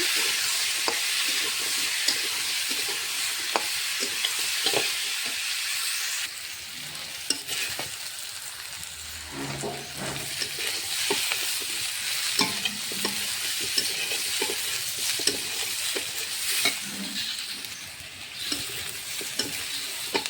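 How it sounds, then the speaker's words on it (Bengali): Potatoes fry in hot oil with turmeric and salt, sizzling continuously while a spatula stirs and scrapes the pan at intervals, close and fairly loud, with no voices. "আর আলুটা ভালো করে লাল লাল করে ভেজে নেব।"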